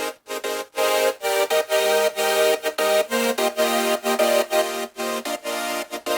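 Synthesizer chords from an electronic track play in sustained, choppy bursts, with rhythmic gaps that cut the sound in and out at a steady pulse, loud and up close with no talking.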